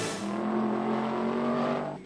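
Audi and BMW V8 Superstars race cars at the Mugello circuit in Tuscany, engines roaring loud and close with a sustained, steady drone across the whole stretch.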